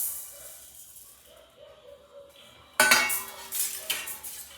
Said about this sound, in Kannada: ಇದನ್ನು ಲೋ ಫ್ಲೇಮಲ್ಲಿ ಇಟ್ಟು ಅಕ್ಕಿಯನ್ನು ಹಾಕಿ ಚೆನ್ನಾಗಿ ಫ್ರೈ ಮಾಡುವ